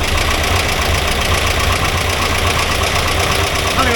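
A 1982 air-cooled VW Vanagon Westfalia engine running, a loud, steady, close-up rumble with an even mechanical clatter and no clear change in pitch.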